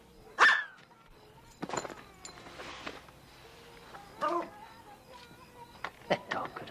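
A dog in a 1988 comedy film gives a few sharp barks and yips, with a loud one near the start and others scattered between quieter noises.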